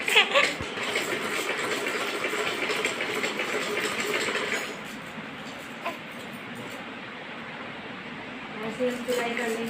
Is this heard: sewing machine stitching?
yes